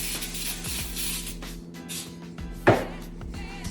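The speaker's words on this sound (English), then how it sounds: "I am going to spray down my pan" Cooking spray hisses in short bursts onto a baking pan, with faint background hum and a brief clack partway through.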